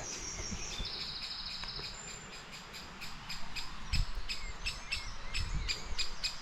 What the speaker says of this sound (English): No, it's that bird up there.